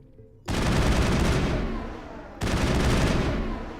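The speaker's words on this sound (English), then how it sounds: "And the assault rifle." Assault rifle fire in the video game Mass Effect: two long, loud sustained bursts of dense automatic gunfire, the first starting abruptly and tapering slightly before a brief dip, then a second equally loud burst.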